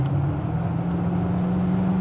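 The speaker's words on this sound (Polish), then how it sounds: "I fajnie słychać też bulgot silnika" A 1990s Mercedes SL 500 R129 V8 accelerating under kickdown, a deep steady burble with a low humming drone, close and continuous with no voices.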